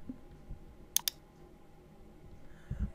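Two quick sharp mouse clicks on a computer during 3D modeling work, close and crisp, over faint room hum.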